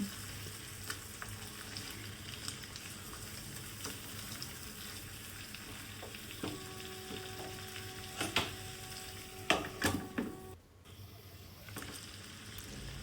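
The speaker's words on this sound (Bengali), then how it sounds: "আবারও ভালো করে নেড়ে চেড়ে কষিয়ে নিচ্ছি" Chicken boti masala frying and being stirred in a pan, heard as a steady, fairly quiet sizzle throughout with intermittent spatula scrapes and clinks that cluster in the second half; no talking.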